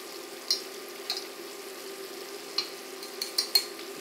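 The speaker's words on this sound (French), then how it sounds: "On mélange un peu pour être sûr que ce soit bien partout pareil." A utensil stirs sugar-and-water syrup for meringue in a pan on a hot plate, giving a few faint scattered scrapes and taps over a soft low background hum.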